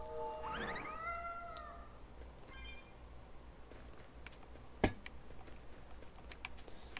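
A cat meows in a video game, one short rising-and-falling call near the start, then quiet ambience with faint ticks and one sharp click.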